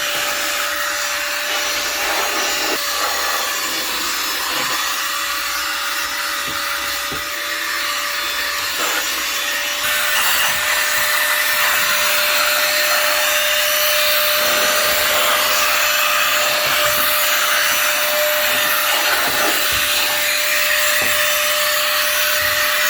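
Electric compressed air duster blowing dust, a loud continuous close-up whoosh with a steady high whine that holds for the whole stretch and grows slightly stronger midway.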